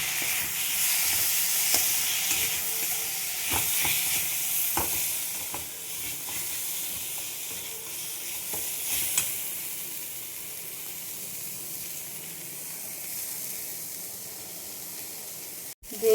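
Tomatoes fry with biryani masala and coriander powder in a pan, a steady close sizzle and hiss that runs throughout, punctuated by occasional light stirring taps, with no voices.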